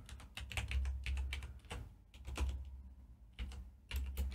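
Computer keyboard typing a prompt, a quick run of close, crisp key clicks with brief uneven gaps between them.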